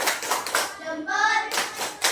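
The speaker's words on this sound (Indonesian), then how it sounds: "Kasih tepuk salat dulu buat kelompok audio." A group performs the 'tepuk salut' clap chant in a Hindu religious education class, with bursts of rhythmic hand clapping around a brief chanted voice in the middle, close and lively.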